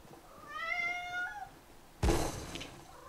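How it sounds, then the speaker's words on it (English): A pet cat lets out a rising, drawn-out meow nearby, followed by a sudden loud thump or knock. "Not sure why my cat's going a bit mental."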